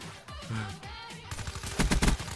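Shotgun fire in Black Ops 3: a few loud, sharp blasts in quick succession near the end, following a stretch of muffled game noise and movement.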